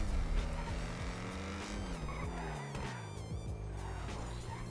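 A car driving in the video game GTA Grand RP, a steady engine drone with shifting revs and some tire noise, fairly faint and continuous.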